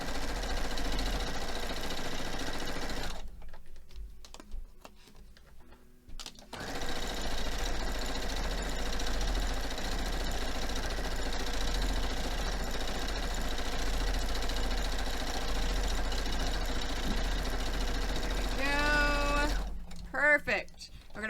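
Sewing machine stitching the sides of a pinned quilt block, a steady close mechanical whir that runs almost the whole time with a short pause partway, a voice speaking briefly near the end.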